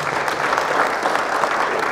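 A church congregation claps steadily and loudly in a continuous burst of applause with no pauses.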